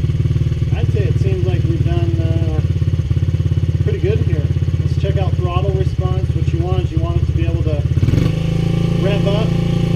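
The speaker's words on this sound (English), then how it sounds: "Let's check out throttle response." A Honda CRF50 dirt bike engine, its carburetor freshly cleaned, idles steadily and revs up repeatedly in short throttle blips, loud and close, with someone talking over it before the engine settles back to idle.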